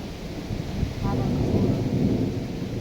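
Thunder rolling during a rural thunderstorm, a loud low rumble swelling in the middle and sustained to the end, with a faint wash of rain and wind behind it.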